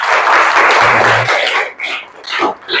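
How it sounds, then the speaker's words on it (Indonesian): Pupils in a classroom clap loudly together for about a second and a half, then the applause thins into scattered claps and a few voices. "Tepuk tangan sekali lagi."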